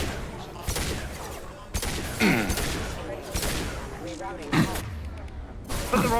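Gunfire from Mass Effect Legendary Edition combat: repeated loud bursts of shots and impacts spread across the clip, mixed with game effects and voices talking throughout.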